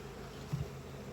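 Honey bees hum around a first-year hive being split into a nuc, a faint, low, steady buzz with a brief swell near the middle.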